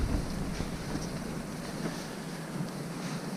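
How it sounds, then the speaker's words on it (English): Wind blows outdoors at a Norwegian winter camp in a valley, a continuous rushing, buffeting roar hitting the microphone close up, with no talk. "It's a little bit windy today"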